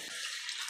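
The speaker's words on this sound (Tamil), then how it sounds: "நம்ம இன்னும் கொஞ்சம் நார்மல் வாட்டர் ஆட் பண்ணிவிட்டு வேக வச்சுட்டு" Water pours steadily into a pot of South Indian sambar being cooked, a brief continuous splashing rush with no voices over it.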